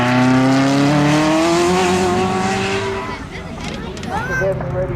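Ferrari F40 LM with a turbocharged V8 accelerating along a runway; a loud, close engine note climbing steadily in pitch, then fading as the car pulls away, with crowd noise and brief engine sounds toward the end.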